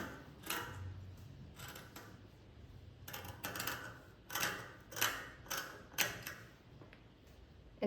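Scissors cut the armhole of a child's top from old saree fabric in a string of crisp, rhythmic snips and rustles, close and fairly quiet, with no talking.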